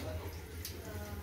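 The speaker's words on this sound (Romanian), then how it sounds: "a început din nou să scoată apă" A DeLonghi Magnifica S coffee machine runs water through during descaling, a steady low hum under a thin trickling stream, with a brief hiss midway.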